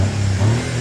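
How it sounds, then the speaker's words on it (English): The engine of a Joyner Renegade R2 4x4 buggy with a five-speed box, a Chery motor, revs briefly and loudly, a steady close drone rising slightly in pitch. "We'll rev it up a little bit."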